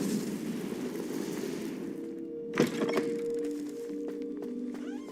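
Confringo blasting spell cast in Hogwarts Legacy, a sharp cracking impact that bursts out mid-stretch after a busy rumbling wash of battle noise, then fades into quieter magical chimes and whooshes.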